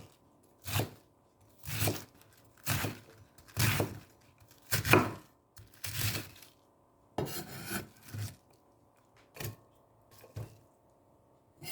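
A knife cuts a cabbage into pieces on a board, producing about a dozen separate rasping cuts at a steady, unhurried rhythm, close and moderately quiet.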